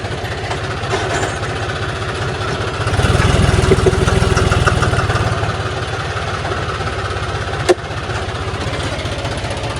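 A tractor with a trailer hitched on runs as it is driven forward, its engine chugging steadily at close range, swelling louder for a few seconds in the middle, with a single sharp click near the end.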